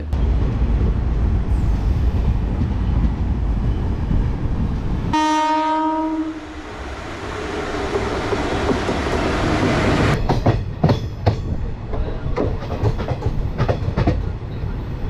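The Puri–Kolkata train rolls along after departing, giving a loud, close rumble. A long horn blast sounds midway, then rapid clickety-clack of wheels over the rail joints, with no talking.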